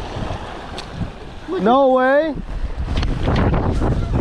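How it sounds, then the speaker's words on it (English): Strong gusting wind buffets the microphone on a lake shore during a fishing outing, a steady low roar under a brief spoken exclamation. "It is freaking windy as can be."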